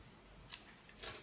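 Scissors snip through gold leaf trim in two quick, crisp cuts, close and quiet in an otherwise still room.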